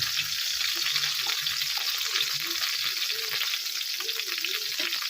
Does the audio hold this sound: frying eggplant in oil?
yes